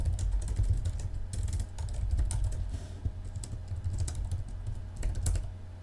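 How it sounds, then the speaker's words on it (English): Keystrokes clatter on a computer keyboard while someone writes C++ code for a tic-tac-toe program, a steady close run of quick taps with short pauses and no talking. "it's not annoying when I type"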